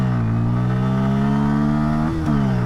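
A Bajaj Pulsar N160 or Hero Xtreme 160R 4V motorcycle engine drones loud and close in first gear, pitch climbing steadily as it accelerates, then a brief dip at a shift before rising again.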